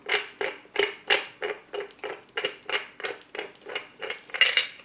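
The metal cap of an old die-cast outdoor plug is unscrewed by hand, producing a quick series of about a dozen light metallic clicks and scrapes, close and rhythmic, with no talking.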